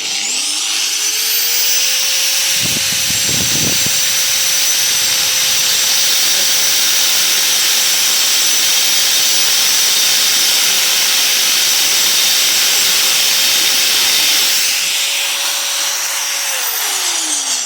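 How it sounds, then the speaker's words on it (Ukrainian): An angle grinder fitted with a milling cutter attachment spins up with a rising whine, holds a steady high drone with a brief grinding bite early on, then winds down. "берете ось таку фрезу на болгарку і легенько проводите, вибираєте"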